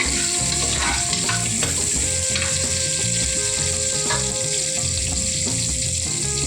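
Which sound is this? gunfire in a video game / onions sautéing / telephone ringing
onions sautéing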